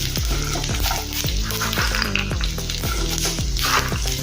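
Peanuts fry in hot oil in a pan with green chillies and sesame seeds while being stirred, a loud steady sizzle under rhythmic scraping strokes of a spatula, no voices.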